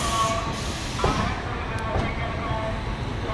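Train pulling away from Pandit Deen Dayal Upadhyaya Junction (DDU), SMVT Bengaluru to Danapur 12295 service, heard from inside a sleeper coach: a steady, loud rumble of wheels and carriage with faint clanks and a brief hiss, voices murmuring underneath.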